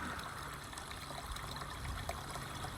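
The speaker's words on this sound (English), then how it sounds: "a valley that's been carved out by a stream of water running down, which you may be able to hear in the background" A moorland stream runs down a carved valley, a steady broadband trickle and babble of water close by, continuous and even throughout with no voices.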